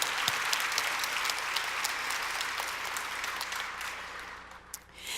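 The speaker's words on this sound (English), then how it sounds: "So let's give them a great big round of applause." Sustained applause from a large audience at a community gathering honoring former board members, a dense steady wash of clapping that fades slightly toward the end.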